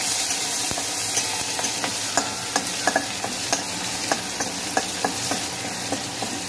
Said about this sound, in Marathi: मी आता त्याच कढईमध्ये लसूण मिरच्या फ्राय करून घेते